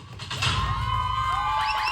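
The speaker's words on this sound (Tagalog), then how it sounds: "palakpakan at sigawan for number one!" A live audience at a Filipino game show cheers and shouts for a contestant, with a loud burst of crowd noise, high excited shrieks and whistles over steady clamour.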